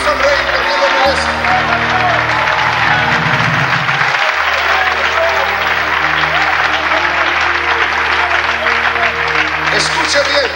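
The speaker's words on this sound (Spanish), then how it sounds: "denle un aplauso al Rey, porque lo merece" A church congregation applauds loudly and steadily, with thick, continuous clapping over sustained low music tones and some voices calling out.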